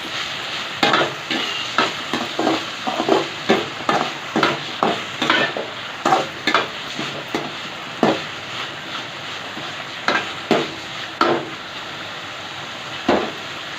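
Boiled flat beans fry in a pan while a spoon stirs them, giving repeated scraping knocks in an irregular rhythm over a steady sizzle, close and fairly loud.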